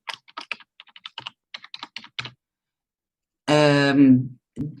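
Fingers type on a computer keyboard in quick, uneven bursts of light clicking keystrokes, close and fairly quiet, followed after a short silence by a brief vocal sound.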